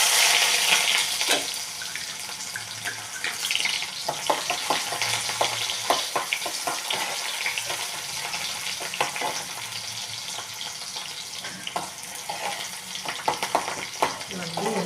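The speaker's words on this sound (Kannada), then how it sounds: "ಉಳ್ಳಾಗಡ್ಡಿ ಎಣ್ಣೆಯಲ್ಲಿ ಚೆನ್ನಾಗಿ ಫ್ರೈ ಮಾಡ್ಕೋಬೇಕು" Chopped onions sizzle and fry in hot oil in a pan for a chavalikay masala gravy, a steady loud crackle broken by clinks and scrapes of stirring, close up with no voices.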